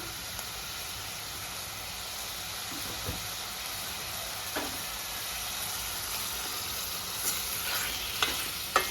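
Chicken frying with ginger garlic paste in a pan, a steady soft sizzle and hiss with occasional light scrapes and clinks of stirring, fairly quiet and close, with no talking.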